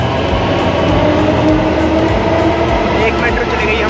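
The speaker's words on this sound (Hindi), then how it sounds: "एक मेट्रो चली गई हमारे सामने, ये भी हम पूरे तक पहुँच जाएंगे।" Delhi metro train pulling out of the station, a loud continuous rumble with rhythmic wheel clacks and a faint rising whine, heard from the platform under steady crowd noise.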